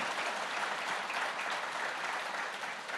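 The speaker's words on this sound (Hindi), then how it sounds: "थोड़ी तालियां बजा दीजिए।" Audience applause at a live interview show, a continuous wash of clapping from a large crowd, even in level and somewhat distant, with no voices on top.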